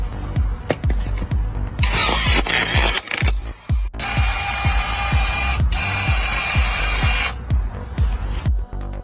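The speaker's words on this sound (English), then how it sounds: "That is a portable hydraulic cutter specially designed to harvest bamboo quickly." Portable hydraulic cutter built for fast bamboo harvesting, working through thick bamboo stalks: a loud, steady mechanical whir with hissing bursts and a regular thumping pulse, running almost continuously and close up.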